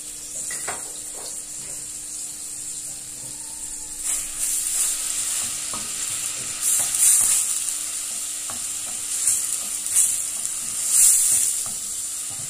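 Two garlic cloves fry in olive oil, giving a steady close sizzle that swells now and then, with occasional stirring scrapes and clinks of the pan, no voices.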